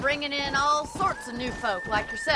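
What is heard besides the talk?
None of the usual background noises is heard.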